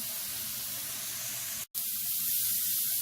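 Green beans and garlic stir-frying in a hot pan for an Asian-style keto dish give off a steady, close sizzling hiss, broken by one brief dropout midway before the frying noise resumes.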